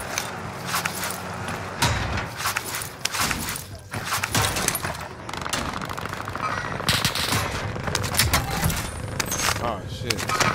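Rapid bursts of gunfire in a video game rattle on continuously for about ten seconds, dense and fairly loud, mixed with sharp cracks and clatter while a voice talks over the shooting.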